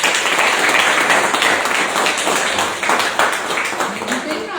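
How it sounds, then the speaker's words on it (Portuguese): Audience applause at a Christian gathering celebrating a boy's recovery, a dense, steady wash of many hands clapping fairly close throughout, with a murmur of voices mixed in. "Dá salva de palmas."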